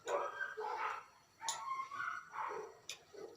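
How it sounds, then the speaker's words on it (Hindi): Dogs bark and yip at night in a rapid series of short, fairly faint bursts, a few whimpering notes mixed in, heard from some distance. "कुत्ते इतने बोलते हैं, इतने बोलते हैं"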